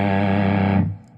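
A single sustained electric guitar chord through a silicon Cobra Chicken fuzz pedal by X23 Pedals, thick fuzz distortion ringing out loudly, then fading and cutting off after under a second.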